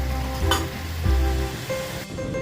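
Food frying in a pan at a morning cooking session, a steady broadband sizzle with occasional clinks and stirring bumps, heard alone without talk.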